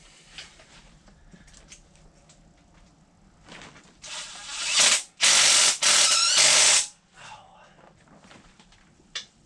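A ratchet tightens bolts on a harmonic balancer during an LS engine swap in a Chevrolet S10, giving a few loud bursts of rapid clicking between about 4 and 7 seconds, with quieter mechanical handling before and after.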